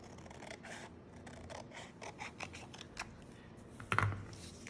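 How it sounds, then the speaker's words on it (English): Scissors snip through folded paper along a crease, with a run of soft, close crisp cuts in an uneven rhythm and a louder snip near the end. "we're going to open it back up and cut on the line where we folded it in half."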